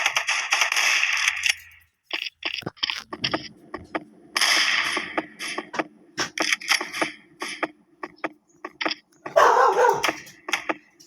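A dog in a shooting video game barks amid sharp whip-like cracks and gunfire, with choppy bursts of game noise and a brief yip near the end.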